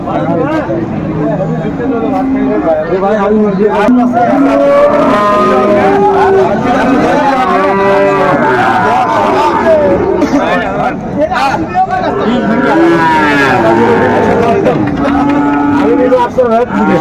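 Bulls moo repeatedly over a steady, loud hubbub of crowd chatter and bargaining at the Ambari livestock market in Dinajpur, the lowing calls rising and falling throughout the busy outdoor gathering.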